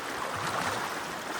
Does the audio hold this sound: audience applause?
no